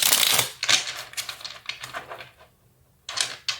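Tarot cards being shuffled, a few short papery riffles and slaps in quick bursts with brief pauses between, close and fairly soft.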